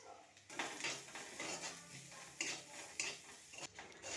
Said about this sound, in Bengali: কড়াইতে আবার একটু তেল দিয়ে প্রথমে আমি নারকেলটাকে ভেজে নেব